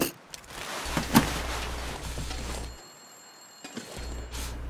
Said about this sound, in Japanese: なんか鳴ってるよね電話が。